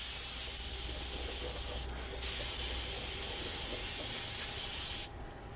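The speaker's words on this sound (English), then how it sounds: "And spraying the box up." Spray paint hisses steadily onto a wooden box, a continuous close, broad hiss with a brief dip midway that lasts about five seconds before easing off.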